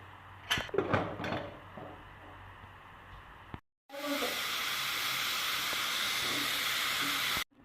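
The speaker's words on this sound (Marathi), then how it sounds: "कुकर लावायचे आता तीन शिट्ट्या करून घ्यायच्या" A pressure cooker cooking khichdi lets out a loud, steady hiss of steam for several seconds. It follows a short pause after some earlier kitchen clatter.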